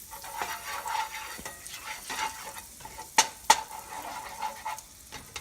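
Butter melting in a pan for a Parmesan mushroom sauce, with a steady soft sizzle and occasional utensil scrapes and two sharp clinks, close by, and no voices.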